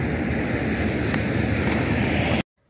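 Floodwater from Angola rushes across land in Namibia with a steady, loud broadband roar, then cuts off abruptly near the end.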